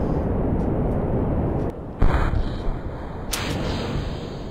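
Rocket engine at full throttle in Kerbal Space Program, a loud, steady roaring rumble that continues throughout, briefly dipping before returning at full force.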